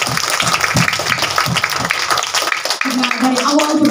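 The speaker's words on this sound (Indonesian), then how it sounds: "mari kita berikan tepukan yang luar biasa untuk Tuhan kita." A congregation claps at a Sunday School Christmas celebration, giving dense, close applause with some voices mixed in and a sustained tone near the end.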